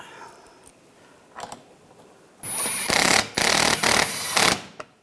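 A power tool drives screws into the engine splash shield of a 2013-2016 Dodge Dart. After a few light clicks it whirs loudly in three or four close, sustained bursts, with no talking.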